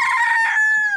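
A rooster crows close by, one long drawn-out cock-a-doodle-doo with a sustained, wavering tone that trails off at the end.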